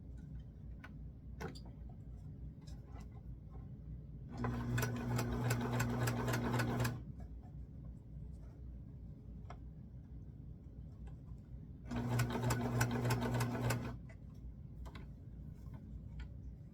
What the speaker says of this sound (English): we are going to sew them in place.